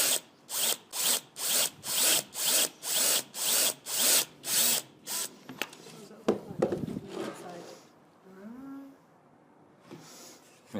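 A power drill bores through a plastic catch basin for downspout drainage in a rapid series of about ten short, even bursts, close and loud, followed by scraping handling sounds and a person speaking.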